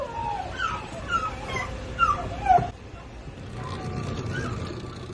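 Beagles in a consignment of 78 whimper and yip in a transit setting, several high whining cries in the first few seconds, then fading into a dull background rumble.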